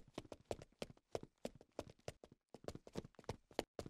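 Rapid footsteps in the video game Gym Manager, a quick run of sharp, closely spaced taps with a brief pause midway, crisp and fairly close.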